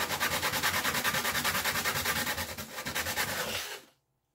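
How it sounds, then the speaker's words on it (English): A fiberglass swim ladder transom pad edge is sanded by hand in fast, even back-and-forth rasping strokes, close and steady for several seconds before stopping abruptly. "So I'm just going to keep sanding that to get that off."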